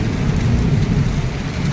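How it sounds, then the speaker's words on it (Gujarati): Heavy monsoon downpour in Rajkot, a dense, loud, continuous roar of rain with no breaks and no voices. "અને વરસાદી ચાલુ, વીજળી ચાલુ."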